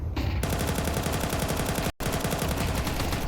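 Rapid Tech-9 pistol gunfire in a Counter-Strike match, a dense, evenly spaced string of loud shots that breaks off for a split second and then resumes at the same pace.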